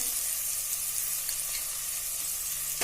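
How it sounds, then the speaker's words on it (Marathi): Green chillies sizzle in hot oil in a pan while pavta bhaat is cooked. A soft, even frying hiss holds steady for a few seconds, faint and without voices. "आता त्यामध्ये आपण हिरवी मिरची घालतोय"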